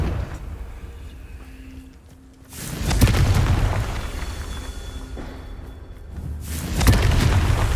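The Confringo fire spell in a wizarding video game bursts twice into heavy, rumbling blasts with a roaring tail, set a few seconds apart against a quieter ambient background.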